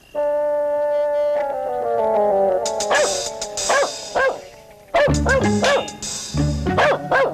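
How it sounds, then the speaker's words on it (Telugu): A dog barks in a Telugu film scene, a run of sharp, fairly close barks and yelps over a sustained musical tone. "కుక్క ఎందుకు అరుస్తుంది చూడండి రా"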